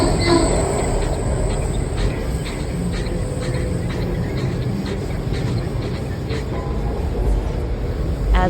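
A Washington Metro train runs through a tunnel, heard as a steady, loud rolling rumble with rail clatter and a faint high whine, continuous throughout.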